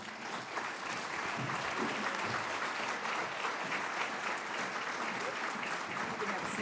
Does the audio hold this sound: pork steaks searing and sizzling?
no